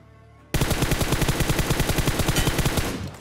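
Automatic gunfire in the mobile battle royale game BGMI bursts in abruptly after a quiet moment: a long, rapid, evenly spaced string of loud, close shots that tails off slightly at the end, with no voices.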